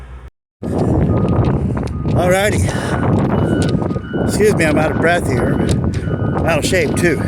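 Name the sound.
wind blowing into the microphone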